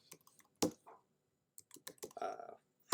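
Quiet, close keystrokes on a computer keyboard, a handful of scattered clicks with short pauses between them, as if entering a web address, with no talking.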